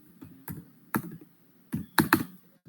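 A few sharp, close keyboard clicks spaced out in irregular bursts, the last pair coming in quick succession like a typed key followed by Enter, with no talking.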